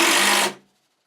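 A power driver running a screw into a wooden shelf, one steady buzzing whir lasting about half a second and then stopping abruptly, loud and close.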